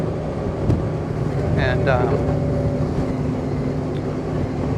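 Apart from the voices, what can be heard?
2021 Honda Gold Wing DCT motorcycle engine lugging at low RPM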